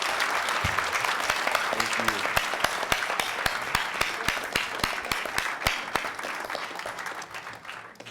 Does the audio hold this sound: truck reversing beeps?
no